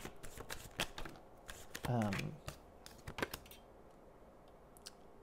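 Tarot cards are handled up close with soft clicking taps, then one quick riffle shuffle, quiet overall in a calm room.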